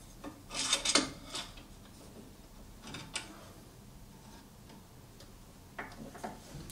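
A tool-sharpening jig rolls along the drum of a JET JSSG-10 sharpener, making soft rasping rubs and light ticks in short bursts with quiet pauses between, close and fairly faint.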